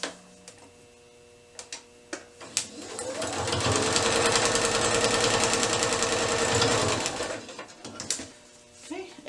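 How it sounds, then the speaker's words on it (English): A sewing machine runs continuously for several seconds stitching paper-pieced fabric along a marked line, a close, steady mechanical whir, framed by scattered clicks and handling taps before and after. "Turn it over and sew along this line."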